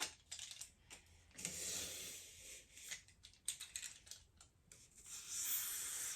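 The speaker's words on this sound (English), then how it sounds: "Just start cutting it to shape." A blade cutting into styrofoam to shape it, scratchy hissing strokes and squeaky rasps that come in uneven bursts with brief pauses, close and fairly quiet, with no talking.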